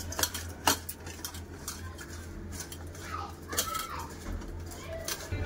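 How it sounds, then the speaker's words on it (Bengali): Turmeric powder and salt are mixed into fish in a bowl in a home kitchen. Sharp clinks and scraping come in irregular bursts over a low steady hum, with faint chicken clucks in the distance. "হলুদ গুঁড়ো, লবণ, সব ভালো করে মিশিয়ে নেব"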